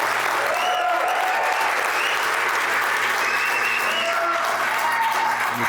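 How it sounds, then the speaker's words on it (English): A crowd claps steadily in dense, sustained applause that fills the whole stretch without a break. "Please give him a loud round of applause to Ben Rogers."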